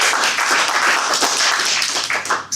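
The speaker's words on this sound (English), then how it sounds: "You'll notice we'll do a lot of clapping here." A Toastmasters meeting audience claps together in a dense, lively burst of applause that tapers off near the end.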